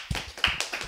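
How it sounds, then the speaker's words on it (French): A few scattered hand claps sound in quick succession, close and sparse, as a small online audience responds to a guest. "On va applaudir."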